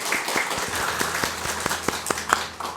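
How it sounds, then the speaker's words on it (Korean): A church congregation claps together in a sustained round of applause during a Thanksgiving service, steady and moderately loud. "우리 서로 함께 감사의 박수를 드리겠습니다"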